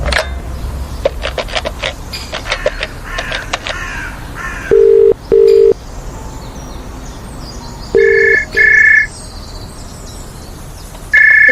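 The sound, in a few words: telephone ringing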